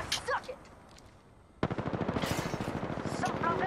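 Rapid automatic gunfire in Apex Legends during an arena match, a dense burst of repeated shots starting abruptly midway and continuing loud to the end, after a quieter stretch with brief clicks and faint game sounds.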